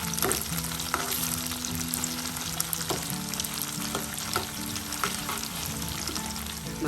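Tofu fries in a hot pan, a dense continuous sizzle broken by scraping stirs of a utensil, close and loud with no voices.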